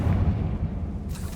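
A Confringo fire spell blasts in Hogwarts Legacy, a heavy low booming rumble that swells and rolls on for over a second, ending with a brief brighter crackle.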